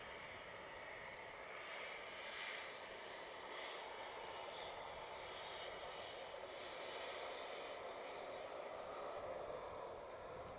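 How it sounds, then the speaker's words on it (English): A Boeing 777-300 bound for Singapore takes off at night from runway 36 Centre at Amsterdam Schiphol. Its jet engines give a steady, broad distant roar that holds level throughout, with no one speaking. "So there goes that 777-300 going to Singapore."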